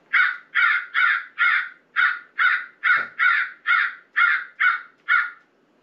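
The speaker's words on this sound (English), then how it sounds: "Crow frenzy." Crow frenzy calls played loud from a Johnny Stewart Executioner electronic predator caller: twelve harsh, evenly spaced caws in a steady rhythm, close and alone, with a brief low thump midway.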